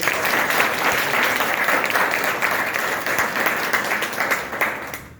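A crowd at a police exam coaching event applauds a newly selected recruit, a loud, steady burst of clapping that tapers off slightly toward the end.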